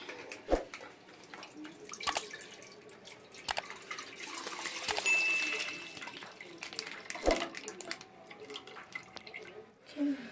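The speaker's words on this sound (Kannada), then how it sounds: "ನಾನಿವಾಗ ಲೀಟ್ರ್ ಹಾಲು ಹಾಕ್ಕೊಳ್ತಾ ಇದ್ದೀನಿ" A liter of milk is poured into a pot for making payasam: a steady liquid stream with a few sharp clicks and clatters, and a person talks over part of it.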